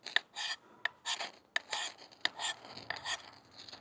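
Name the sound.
kukri machete scraping paint off a ferrocerium rod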